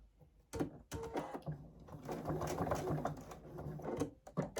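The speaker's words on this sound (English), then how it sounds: "I'm going to just whiz down and sew this" Close but quiet, a sewing machine stitches a quilt seam in one short continuous run, whirring rapidly between a few clicks.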